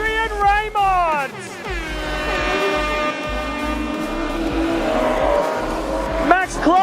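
Modified sedan race cars roar around a speedway at the finish of a feature race, their engines loud and close, rising and falling in pitch as they sweep past, with a voice talking over the noise.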